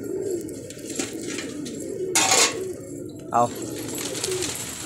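A domestic pigeon coos softly and close by outdoors, with a burst of wing flutter partway through, while someone talks over it.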